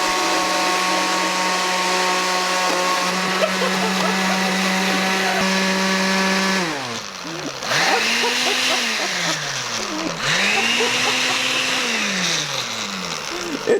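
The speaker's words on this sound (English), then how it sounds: "That's the shittiest blender ever." A cheap kitchen blender runs loud and close with a steady whining motor, then its pitch sags and surges in labored cycles as the load bogs it down, with faint voices in the background.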